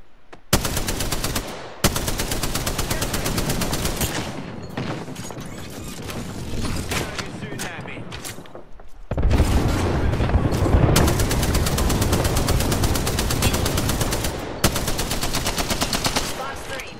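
Sustained rapid machine-gun fire in Apex Legends Arena mode, loud and close, in long continuous bursts with brief gaps, sounding like game weapons.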